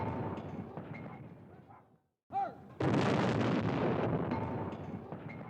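Naval battle gunfire in the strategy game Hearts of Iron III, with rumbling heavy booms and blasts, a brief pause, then a loud sustained roar of explosions and fire.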